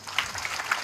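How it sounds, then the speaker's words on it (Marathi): A kirtan audience claps briefly for young children, a soft, fairly distant patter of applause with a few sharper individual claps. "लहान बालकांसाठी जोरदार टाळी वाजवा."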